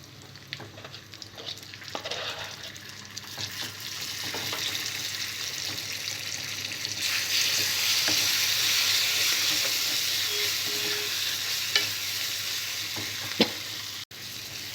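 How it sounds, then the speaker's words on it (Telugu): Ground ridge gourd and peanut chutney is tipped into a hot tempering of curry leaves and stirred, and a steady frying hiss swells louder as it cooks, with occasional scraping clicks of the spoon, close by and with no talking. "తాలింపు బాగా ఫ్రై అయిన తర్వాత ముందుగా నూరుకున్న పచ్చడి వేసుకోవాలి."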